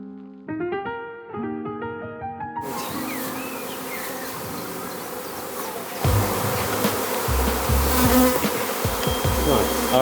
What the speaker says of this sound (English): So this is what a bee swarm looks like.